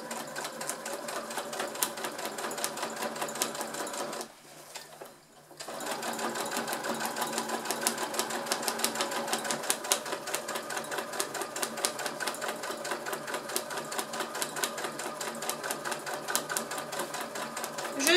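A domestic sewing machine runs a steady rapid stitching rattle while sewing a glasses case, pausing briefly once as the needle is planted and the presser foot lifted, then resuming at an even pace for a long stretch.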